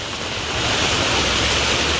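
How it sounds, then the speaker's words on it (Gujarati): Heavy monsoon rain pours in a village, a dense, loud, continuous roar of falling water that swells slightly and holds steady. "જોઈ લો ભાઈ નેડીમાં વરસાદ."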